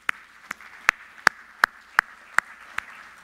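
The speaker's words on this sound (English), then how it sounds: "please join me again in a round of applause for Justin, Joel, and Greg." Applause for speakers at a smart growth summit comes through as sparse, evenly spaced single claps, about eight sharp hand strikes at a slow steady rhythm over a quiet room.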